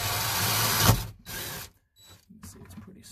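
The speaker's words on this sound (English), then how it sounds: "drilling holes in the boat" A power drill whirs loudly for about a second, then cuts out and restarts in shorter, quieter bursts with pauses between, drilling holes in a Yamaha 242X boat hull.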